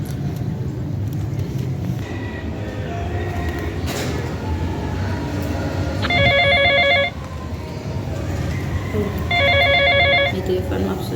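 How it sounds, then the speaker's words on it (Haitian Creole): A telephone rings twice, each a roughly one-second burst of bright trilling bell tones, heard over a steady rumbling background like a passing train, with voices talking throughout. "Le téléphone m'a sonné."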